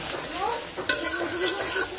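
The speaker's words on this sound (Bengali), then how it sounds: "তো রসুনটা লাল করে ভাজা নিছি" Garlic fries in a pan while a spatula stirs it, producing a close sizzle broken by a sharp scrape and a few soft clinks of utensil against metal, with no talk.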